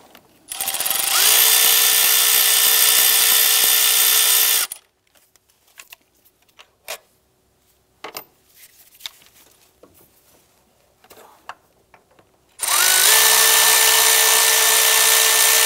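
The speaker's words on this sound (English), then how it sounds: "Go ahead, loosen and remove the 4 bolts now." A power tool loosening and removing the four throttle body bolts on a 2008-2013 Nissan Rogue, a loud close whirring burst of about four seconds, a stretch of faint clicks and handling, then another long burst.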